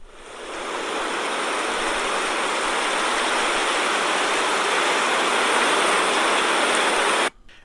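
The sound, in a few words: rainstorm sound effect in audio story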